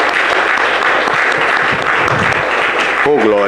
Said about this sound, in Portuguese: Para o Senhor Jesus, uma linda salva de palmas